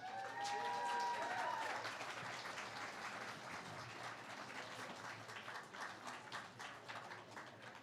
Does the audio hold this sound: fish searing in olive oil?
no